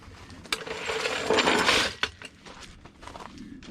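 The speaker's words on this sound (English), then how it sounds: "Should be safe to get your jack out of there now. Slowly let that down nice and gently." Car jack being lowered under a 2011 Nissan Altima 2.5 SL during rear spring and shock work, giving metallic clicks and ratcheting clinks with a grinding mechanical stretch in the middle, close up.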